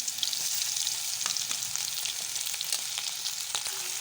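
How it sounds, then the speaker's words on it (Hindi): Cloves, cinnamon and ginger-garlic paste fry in oil in a pan for a fish curry, a soft continuous sizzle with light scattered crackles, heard alone. "तो इसको भूनेंगे, और साथ ही इसमें अदरक लहसुन का पेस्ट शामिल कर देती हूँ।"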